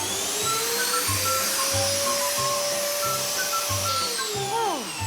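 Vacuum cleaner dusting a wooden parquet floor, a loud steady motor whine with rhythmic thumps as the nozzle is pushed back and forth, pitch dropping as it switches off.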